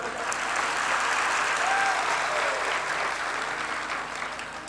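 Sustained applause from a large audience at a Hindu religious discourse (Bhagwat katha), steady and loud throughout, with a slight fade near the end.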